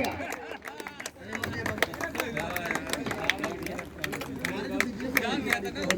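Crowd clapping at a village cricket tournament final prize distribution, dense and steady over loud crowd chatter, continuous for the whole stretch.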